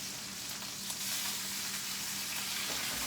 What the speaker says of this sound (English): I heard the sizzle as I put the shrimp down